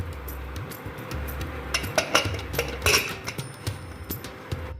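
A metal pressure cooker lid is fitted and closed over soaked rice for prawn biryani, giving a string of sharp metallic clinks and clacks that cluster near the middle over a quiet kitchen background.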